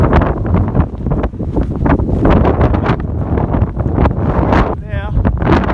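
Strong wind buffets the microphone on an exposed coastal hiking trail, a loud, constant roar with gusting rushes, and a voice talks briefly partway through.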